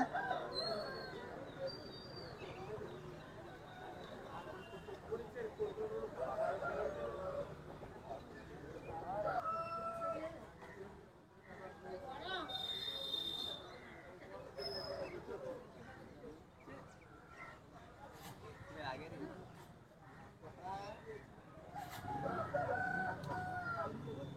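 Roosters crow and hens cluck at a busy Saturday village poultry market, with several crows rising over constant nearby bargaining chatter and crowd noise.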